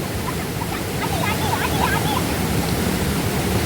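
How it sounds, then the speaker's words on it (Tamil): Mountain stream water in a Kerala estate pours forcefully in a loud, steady, broadband rush that fills the whole clip, with faint voices nearby. "எவ்வளோ ஃபோர்ஸாக ஊற்றுதுங்க பாருங்க."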